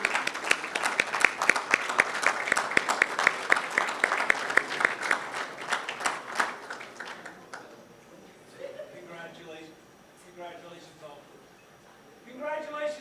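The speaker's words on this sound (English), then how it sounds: "Let's give our graduates an applause." Crowd applause for graduates at a university graduation ceremony, dense and loud for about seven seconds before fading, then a voice speaks over the quieting hall.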